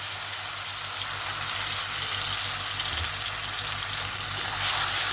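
A pan of onion, garlic, ginger and green chilli paste fries with a loud, steady, close sizzle, hissing without pause and with no voices.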